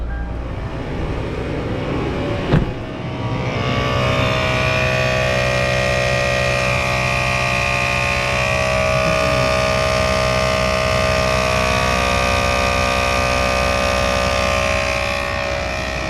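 An ARB air compressor mounted on a fifth-generation Toyota 4Runner inflates the tires, running as a loud steady mechanical hum and buzz after a sharp click at start-up and continuing without talk.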